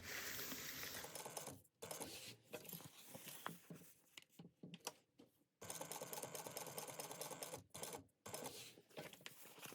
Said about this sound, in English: just sew straight lines across